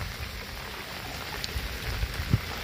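Rain falls steadily while people catch fish outdoors in a monsoon stream, a soft constant hiss with a few heavier drops and splashes close by.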